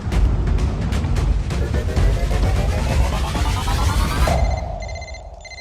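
A loud, insistent electronic phone ringtone with rising warbling tones, sounding continuously before cutting off near the end.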